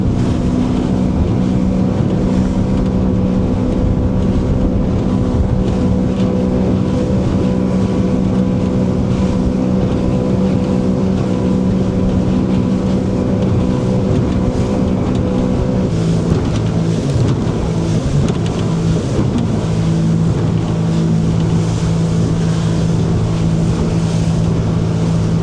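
A Sea-Doo personal watercraft runs on cruise control over choppy water on Georgian Bay. The engine holds a loud, steady drone throughout, with wind and water buffeting layered over it and no speech.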